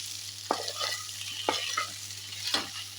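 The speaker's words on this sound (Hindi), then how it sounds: "इनको इसमें डाल देंगे और इसको अच्छे से धीमी आंच पे हम मिलाते हुए भून लेंगे" Fara dumplings stirred and fried in a pan over low heat, a steady soft sizzle with three distinct scraping stirs about a second apart.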